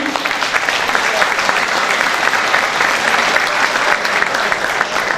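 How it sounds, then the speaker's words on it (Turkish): Strong, sustained applause from an audience at a traditional iftar festival gathering, a dense, even wash of clapping filling the whole stretch at steady loudness with no clear voices over it. "onlara bir moral için güçlü bir alkış istiyorum"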